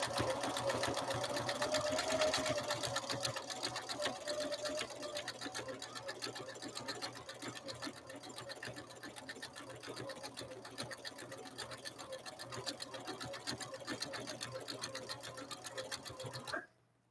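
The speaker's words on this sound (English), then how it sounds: "So we'll do a ladder stitch now on Kel's Model 116 Emerald Husqvarna Viking" A Husqvarna Viking Emerald 116 sewing machine sews a ladder stitch, a steady rapid needle chatter with an even mechanical hum that runs at close range without pause until it stops abruptly at the end.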